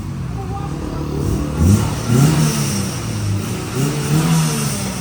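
A car engine with a chambered muffler exhaust revs in several deep, throaty bursts, each rising and falling over a steady idle rumble, with people talking nearby.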